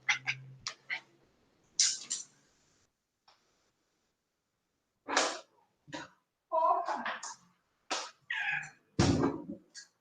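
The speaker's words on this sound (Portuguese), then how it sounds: "meu gato tá miando muito, muito, muito" A house cat trapped somewhere in a home meows several times in short, separate calls with quiet gaps, fairly close and loud, with no talking over it.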